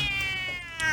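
A cat gives a long, wavering meow, a drawn-out mating-season yowl that swells loud and close, then rises briefly toward the end.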